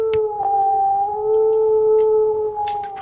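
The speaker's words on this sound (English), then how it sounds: "Wolves here." Wolves howl in steady, sustained tones for about three seconds, loud and near, with a couple of fainter howls layered underneath and no talking.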